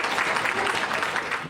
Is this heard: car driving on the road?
no